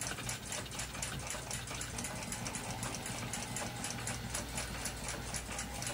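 A small lathe faces the end of a clock click rivet during restoration of an 1882 Ansonia movement, giving a faint, fast, regular mechanical whirring with rapid ticking clicks that runs throughout.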